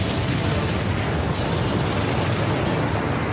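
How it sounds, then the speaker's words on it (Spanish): Vesuvius erupting in a volcanic explosion: a loud, continuous roaring rumble with a heavy low-end boom that stays dense and unbroken throughout, with no voices. "Luego el Vesubio erupcionó"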